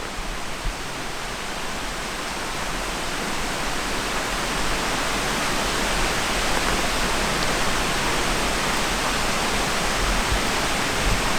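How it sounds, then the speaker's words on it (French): Clear mountain stream water flows in a steady, full rushing wash, loud and continuous without a break, with no voices over it. "j'adore le bruit de l'eau"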